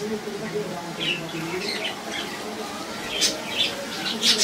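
A male pigeon coos with soft throaty notes that rise and fall, mixed with brief squawky calls and a few sharper chirps, all close by.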